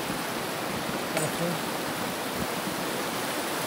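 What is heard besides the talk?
strongly flowing river water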